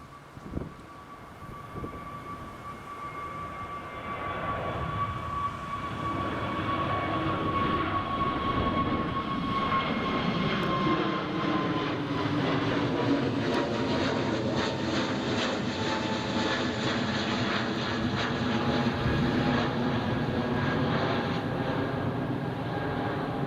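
An airliner takes off from Newcastle International Airport, its engine roar building from a quiet start into a loud, sustained rumble with a steady whine on top, then sweeping in pitch as it climbs away.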